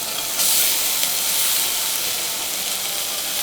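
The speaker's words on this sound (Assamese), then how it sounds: "এতিয়া মই দিম আলুখিনি" Potatoes hit hot oil in a pan for a fish curry, giving a loud, steady sizzling hiss up close that swells as they land and then holds evenly, with no talking over it.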